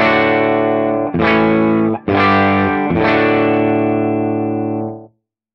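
Distorted electric guitar chords through a cathode-biased valve amplifier, strummed loud and sustained, re-struck three times with brief dips between, ringing out before stopping abruptly.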